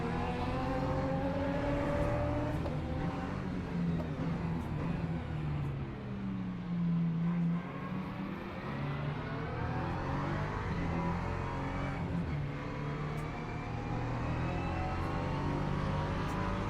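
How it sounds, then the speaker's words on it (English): An LMP2 prototype race car closes in from behind on a wet Algarve circuit during a European Le Mans Series race, its engine note rising and sweeping in pitch over steady loud in-car engine roar and rain-soaked road noise. "Seeing an LMP2 coming up behind, a little bit scary."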